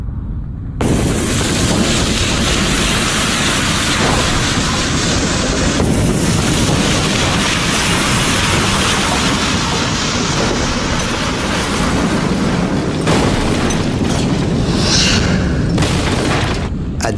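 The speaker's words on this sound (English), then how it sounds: "the scale and power of the explosion and its associated after effects" A simulated eruption of Krakatoa in 535 AD booms as a massive volcanic explosion, filling the clip with a loud, sustained, rumbling roar that stays dense and heavy throughout with no pauses.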